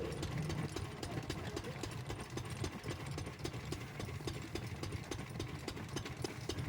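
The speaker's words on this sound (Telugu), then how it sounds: "ఇతనైతే ఈ మిషన్ కొద్దిగా స్లో చేశాడు." A poha (flattened rice) making machine runs slowly at a village mill, a faint, steady mechanical thumping with regular rapid ticks and a low hum, heard from a distance with no talk.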